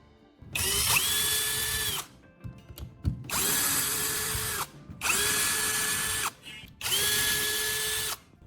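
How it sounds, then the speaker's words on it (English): A power drill backs screws out of a wooden knife handle mold, whirring in four long, loud, steady bursts with short pauses and small clicks and rattles between them, no talking. "I start removing the screws and gently separate the wooden mold pieces."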